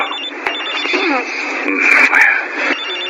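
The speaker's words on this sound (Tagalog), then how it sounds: "May tumatawag sa cellphone ko." A cellphone ringtone plays in a quiet room, a steady electronic tone that carries right through the short stretch at an even, fairly loud level.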